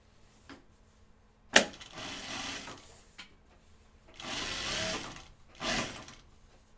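Sewing machine hemming fabric pockets in separate bursts of stitching, a whirring mechanical run of about a second after a sharp click, then two longer stitching runs, near, with quiet pauses between.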